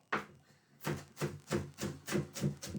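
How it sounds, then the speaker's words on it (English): A knife chopping garlic and parsley finely on a board for Chicken Kiev garlic butter, a close series of about seven rhythmic, evenly spaced thuds after a single opening cut. "just going to chop up this garlic, chop up this parsley, really fine"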